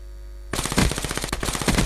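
Rapid automatic gunfire from a small weapon in the video game Call of Duty Black Ops 2 bursts in loudly after a moment of quiet and continues as a dense, steady stream of shots.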